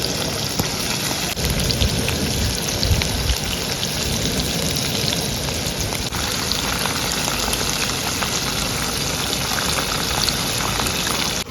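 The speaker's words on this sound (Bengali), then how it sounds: "এবার আমি এটাকে লো ফ্লেমে ভাজছি" Chicken drumsticks sizzling in oil in a pan over a low flame, a steady dense crackle and hiss that holds close and even throughout with no talking.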